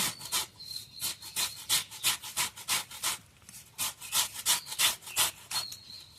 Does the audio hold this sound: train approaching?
no